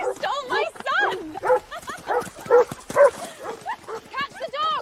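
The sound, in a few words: dog barking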